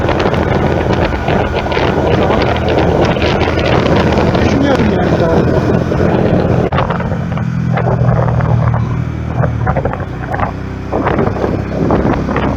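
A rider on a motorcycle cruises along with heavy wind buffeting the microphone, a constant loud rushing roar with engine drone underneath, while people talk over it.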